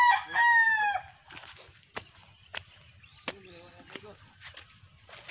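Native chickens on a farm, with a rooster crowing loudly up close at the start, followed by scattered clucks and short calls over faint background voices and movement.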